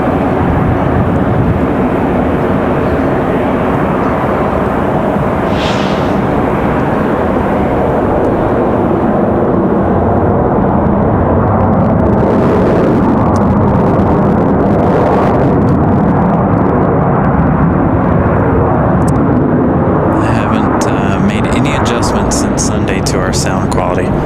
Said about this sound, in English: Yep, that was Delta 689 coming in from Los Angeles